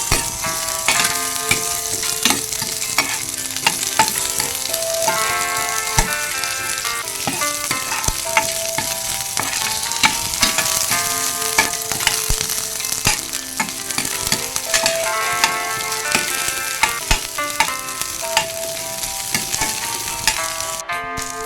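Chopped onions hit a pan of hot oil with already browned garlic for ginataang langka, giving a loud, steady sizzle and frying crackle with scattered scraping stirs throughout, no voices.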